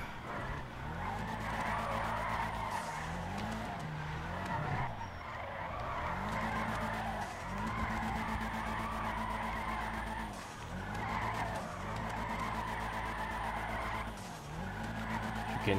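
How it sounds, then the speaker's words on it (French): Nissan Skyline in GTA: City Pop, its turbo whistling over a steady engine drone while tyres squeal and skid repeatedly through corners, loud and continuous across the stretch. "can hear the turbo."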